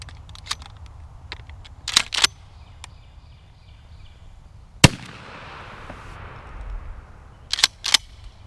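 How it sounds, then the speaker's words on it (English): A Remington 870 shotgun fires one Winchester Longbeard XR 6-shot turkey load, giving a single sharp, loud blast outdoors with a short fading tail. Faint clicks and handling knocks come before and after the shot. "now we're gonna see what the Winchester Longbeard XR 6-shot does in my Remington 870"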